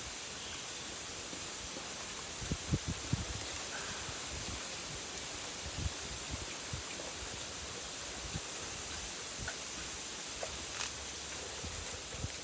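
Strong wind blowing through a bamboo grove in the countryside, a steady, faint, hissing rush with soft leaf rustling and occasional light creaks and taps, with no talk.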